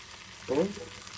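Mackerel pieces frying in hot oil, with a low sizzle beneath a short, sudden burst of splattering oil.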